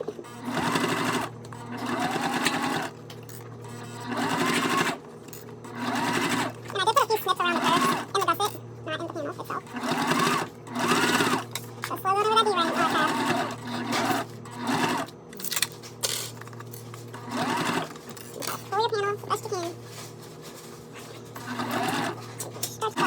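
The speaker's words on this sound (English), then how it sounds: "And so now we need to sew this down at 1/4 of an inch." A sewing machine stitches a quarter-inch seam on a fabric bag, its motor whirring in repeated runs with short pauses, close and fairly loud, while someone talks over it.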